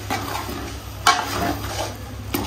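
A spoon stirs and scrapes a brinjal (eggplant) curry in a karahi, with a few sharp metallic scrapes against the pan over a soft, steady background hiss.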